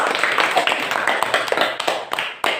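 A classroom group claps for a team of students, a lively spread of uneven hand claps from a small crowd, close and fairly loud throughout.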